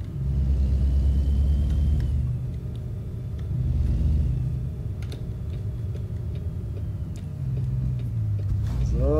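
Truck engine driving in American Truck Simulator: a steady low rumble throughout with faint ticking on top, and no voice over it.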